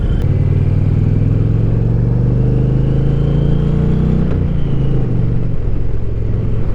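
2024 Indian Challenger Dark Horse motorcycle engine running loud and close, a deep steady rumble that holds and rises slightly before dropping back, with no talking.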